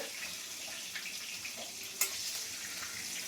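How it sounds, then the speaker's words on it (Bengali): Panch phoron and bay leaves fry in hot oil for a Bengali potato dish, a soft continuous sizzle with a faint clink of a utensil partway through, quiet and steady throughout. "আর একটু পাঁচফোড়ন আর তেজপাতা দিয়ে দিয়েছি এখানে ভেজে নেবো ভালো করে"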